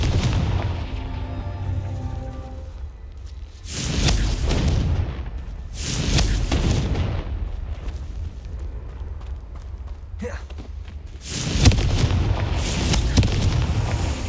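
Confringo blasting spell in Hogwarts Legacy erupts in a series of heavy booming explosions, several loud bursts with rumbling tails separated by brief lulls of quieter game ambience.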